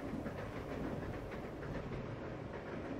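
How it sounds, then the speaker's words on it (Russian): A fast-moving train in the video game Resident Evil 0 produces a steady, dense rumble with a rhythmic clickety-clack of wheels on rails, continuous and fairly loud, with no talk. "Но поезд едет прилично быстро."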